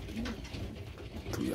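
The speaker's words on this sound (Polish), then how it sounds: "Gołębi młodych jest dużo." Soft pigeon cooing rises and falls close by inside a pigeon loft, mixed with low murmuring background noise and a brief higher call near the end.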